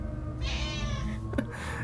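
A house cat meows nearby, two drawn-out mewing calls over a low background murmur, fairly clear and close.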